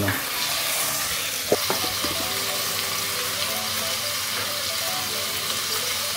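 Chicken sautés in a pan with a constant broad sizzle, broken early by a few clattering knocks of a utensil, then settling into an even hiss.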